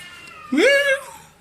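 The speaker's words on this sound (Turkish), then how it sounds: "Mahallede kedi kavgası var." A cat in a neighbourhood fight lets out one drawn-out yowl that rises, then holds and wavers. It is fairly close and loud against quiet surroundings.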